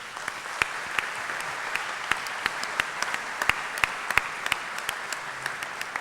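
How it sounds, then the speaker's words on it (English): Audience at a World Scout Conference presentation giving a round of applause, moderate and steady clapping with distinct individual claps standing out, no talking over it. "He deserves a really great round of applause."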